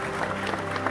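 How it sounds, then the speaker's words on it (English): A short burst of clapping and crowd noise, dense and steady for under a second. "Round of applause for THQ Nordic and Akima for making a Gothic remake"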